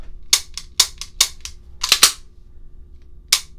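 Sharp dry clicks from a Sig P229 pistol during a dry-fire function check, about eight crisp trigger and action snaps in an uneven rhythm, close and isolated against a quiet background.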